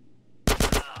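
Gunfire in GTA San Andreas: after a quiet moment, a rapid burst of four loud, close shots rings out in quick succession.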